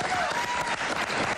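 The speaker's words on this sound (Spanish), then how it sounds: "Un aplauso." Short burst of audience applause in a TV interview studio, dense clapping over a faint voice.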